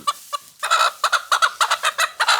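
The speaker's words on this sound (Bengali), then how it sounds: "মোরগ" A home-raised village rooster clucks in a rapid series of loud, close, choppy bursts with short gaps between them, with no voices present.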